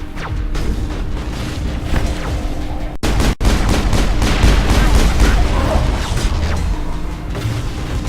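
Continuous heavy gunfire and a grenade explosion in the Mass Effect video game, with dense, loud, overlapping blasts and bursts that barely let up, apart from one brief sharp cutout near the middle.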